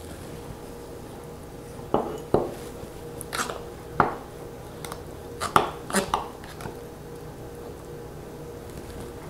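Knife poking into a funnel of overflowing overnight oats in a jar, a scattering of sharp light clinks and taps, some in quick pairs, against a quiet room.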